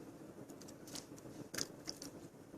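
Close, quiet crunching of crispy fried anchovies being chewed, a few sharp crackling bites scattered irregularly with no voices.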